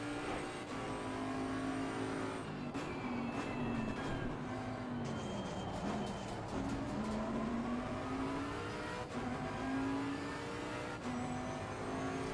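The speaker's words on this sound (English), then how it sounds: "let's just listen to the engine sound" Race car engine in Assetto Corsa Competizione screams continuously through rising and falling revs with gear changes, loud and steady with no talking, like a car lapping a track.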